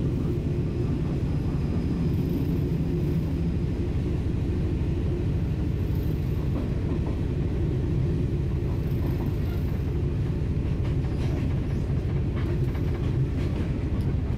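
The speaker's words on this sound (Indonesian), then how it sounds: "Kereta melambat, ada apa nih?" Steady low rumble of a sleeper train slowing down, heard from inside on the Padang Besar to Bangkok route, with constant droning noise and faint rattles, no talking.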